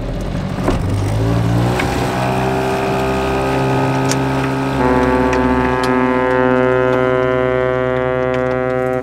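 A large tanker sounds its horn on the water off Helsinki: a loud, sustained low tonal blast with rich harmonics that holds steady and swells partway through, heard close and dominant over faint background noise.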